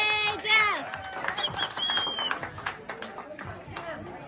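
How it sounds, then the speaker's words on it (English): Crowd applauding and cheering at a fundraiser party, a loud burst of clapping and whoops with voices mixed in, continuing at moderate level throughout. "Big round of applause for Jeff."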